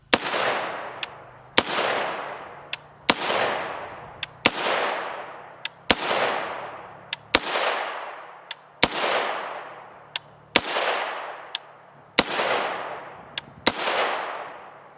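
Ten sharp gunshots from a 16-inch 300 Blackout AR rifle with a 1-in-8 twist barrel, firing 110 grain TAC-TX rounds, loud and evenly spaced about every second and a half, each with a decaying echo tail.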